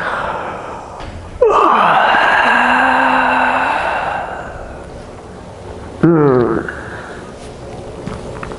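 Two long, drawn-out yawning exhalations from people in a yoga session, the first sustained for several seconds, the second shorter, both close and loud over a quiet room.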